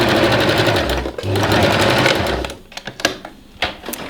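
A sewing machine stitches a batwing top along its ribbing with a loud, steady whirring run for about two and a half seconds, then stops, followed by a few sharp clicks and handling noises.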